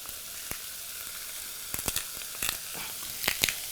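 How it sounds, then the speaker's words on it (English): Chickpeas hitting a hot pan of onion and garlic give a steady, fairly faint sizzle, broken by several short louder crackles and stirring scrapes, with no one talking. "So you add half a can of chickpeas to the onion and garlic."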